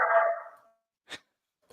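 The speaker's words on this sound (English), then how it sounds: "Sorry, that was my dog." A house dog gives one short bark close to the microphone during an online conversation, followed by quiet.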